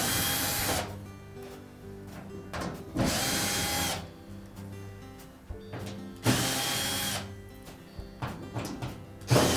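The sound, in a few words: power drill removing screws from washer access panel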